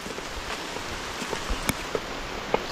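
Rain falls steadily on an outdoor construction site where a bamboo hut is being built, a soft continuous patter with a few sharper drips and knocks standing out.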